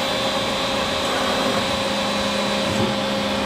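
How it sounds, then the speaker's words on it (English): A Star SA 12 CNC Swiss lathe runs its sub spindle at 2000 RPM during a rigid tap cycle, a steady, loud whirring machine hum that stays constant from start to finish, with no talking. "Sub spindle running at 2000 RPM."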